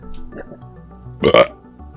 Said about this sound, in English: my hiccups turned into a burp